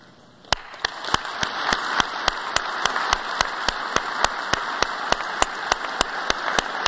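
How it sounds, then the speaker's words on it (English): An audience applauds together at a gathering, a steady wash of clapping that runs the whole stretch, punctuated by evenly spaced sharp clicks and with no voices on top. "let's do so by means of applause right now"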